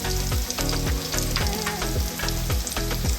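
Onion frying in oil, a loud dense sizzle up close with steady crackling and the scrape of stirring throughout.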